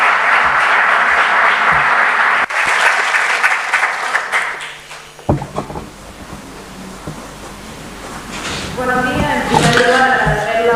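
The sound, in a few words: audience applause welcoming a speaker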